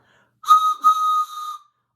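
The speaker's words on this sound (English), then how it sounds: "I brought my whistle." A toy train whistle blown close and loud in two bursts, the first short and the second longer and tailing off, tonal and bright against silence.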